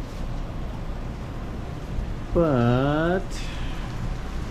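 Rain during Typhoon Mawar, a steady moderate hiss that runs throughout, with a man's brief spoken word over it partway through.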